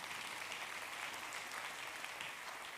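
Church congregation applauding in praise during a sermon, a continuous wash of many hands clapping at an even level, fairly distant and quiet, no voices over it.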